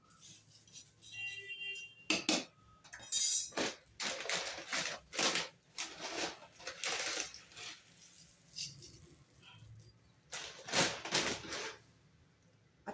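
Puffed rice chivda being stirred in a pan over low heat, with repeated bursts of dry crunchy rustling and scraping in an irregular rhythm, close and fairly loud, with no talking.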